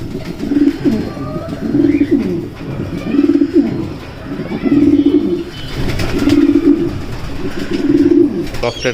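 Racing pigeons in a loft coo in repeated low rolling phrases, close and fairly loud, with faint background rustle.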